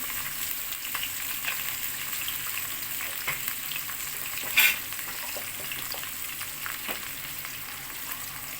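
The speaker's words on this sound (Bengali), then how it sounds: "পেঁয়াজ মরিচটা ভাজা ভাজা করে নিচ্ছি" Steady hiss and crackle of onions and chilies frying in a pan, with a few sharp clinks and scrapes of stirring; no voices.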